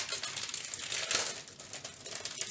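Plastic craft kit packaging crinkles and rustles up close in a continuous dry, papery burst, with no voices.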